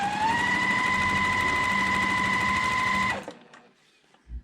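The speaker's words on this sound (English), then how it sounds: "I'm going to line them up and then stitch a 1/4 inch" A sewing machine stitching a quarter-inch seam on quilt block pieces, a steady close whirring hum for about three seconds that stops abruptly, leaving quiet and a faint knock.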